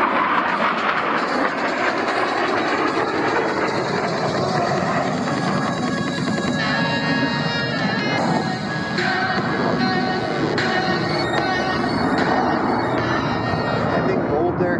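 US Navy Blue Angels jets roar toward the flight line at 400 mph during the 2023 Columbus Airshow, a loud sustained broadband jet noise swelling over the whole stretch while an announcer speaks over it.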